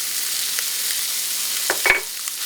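Garlic sizzling in a pan of melted herb butter gives a steady, close frying hiss, with a couple of light stirring knocks near the end.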